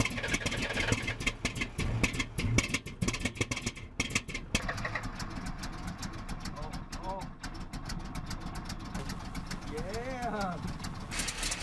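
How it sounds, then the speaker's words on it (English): A carbureted engine in a camper car hauler runs steadily with a rough, raspy exhaust leak and smoke at the carburetor, while people talk loudly over it most of the time. "The exhaust leak is so bad."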